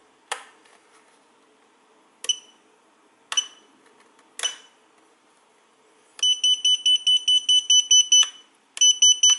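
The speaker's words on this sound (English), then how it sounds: "That's the beeper." A BFight 210 beeper sounds close and loud: a few separate clicky chirps, then a fast run of sharp, evenly spaced electronic beeps that pauses briefly and starts again.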